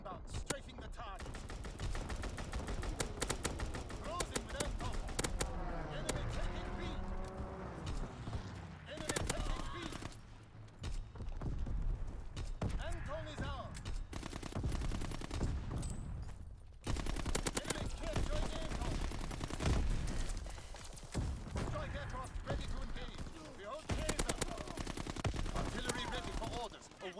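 Rapid machine-gun strafing fire from a fighter aircraft in a war video game: loud, dense bursts of gunfire that roll on for nearly half a minute with only brief pauses.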